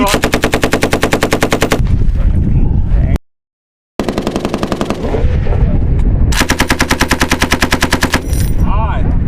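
On a live-fire range, U.S. Marines fire Mk-19 grenade launchers and M240B machine guns in loud, rapid, evenly spaced bursts. A brief silent gap splits the sequence before the pounding automatic fire resumes.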